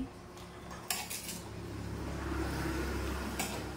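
A cassava and coconut dessert is stirred in a pot, with metal utensil clinks and scrapes against the pot over a steady low rumble of cooking, close by and fairly loud.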